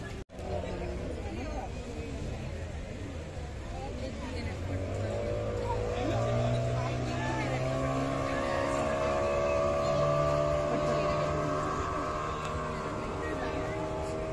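A motorboat engine drones steadily at a Durgam Cheruvu lake boating unit in Hyderabad, holding a rising and falling tone as the boat comes in, with crowd chatter and voices underneath throughout.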